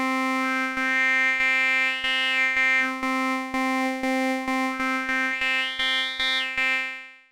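An Arturia MicroFreak synthesizer plays a steady held note in its formant mode, its tone sliding between vowel-like shades as a rhythmic click ticks along beneath, fading out at the end with no voices.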